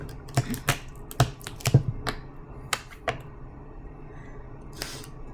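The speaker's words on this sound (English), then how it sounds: "I'm just cutting it off or ripping it off, so I don't have to worry about it" Paper being cut and ripped off a clipboard craft, a few sharp snips and clicks close up in quick succession, then a short pause and a final snip.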